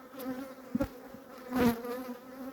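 Honeybees from weak, varroa-damaged colonies buzz at an apiary hive, a soft steady hum with a louder swell in the middle.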